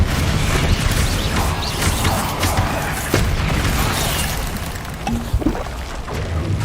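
Bombarda and Confringo spell explosions in the video game Hogwarts Legacy: loud, dense rumbling blasts with crashing, clattering impacts and mechanical creaks, sustained through the whole stretch.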